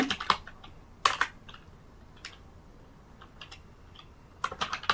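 Computer keyboard typing comes in short bursts of quick clicks separated by pauses, close and fairly quiet, as a sentence is written out.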